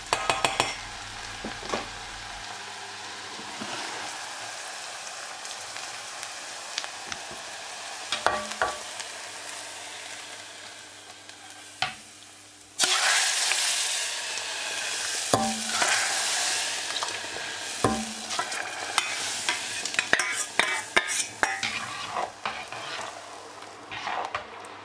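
Spiced sauce of dried mint and red pepper powder stirred into a simmering Anatolian soup in a pot, steady bubbling and scraping stir strokes, with a louder burst of stirring and sizzle midway, no voices.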